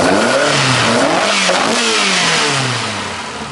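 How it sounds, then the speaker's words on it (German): A Ford Escort RS 2000 rally car engine revs hard close up at the exhaust, rising and falling in pitch with a throaty roar, then eases off toward the end. "Ich halte mal gerade hinten am Auspuff ran und dann gibst du mal ein bisschen Gas."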